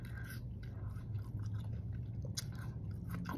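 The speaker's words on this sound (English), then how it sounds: "I'm gonna finish the apple." Someone chews a sweet apple close to the microphone, with wet, crunchy mastication going on steadily over a low background hum.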